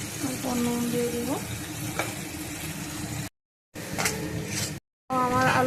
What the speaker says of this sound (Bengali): প্রথমে আলুগুলো আগে ভেজে নেব আমি।